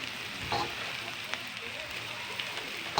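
Taro pieces frying in a hot pan, a continuous hiss and sizzle with occasional sharper pops, moderately close and steady, with no clear talking over it.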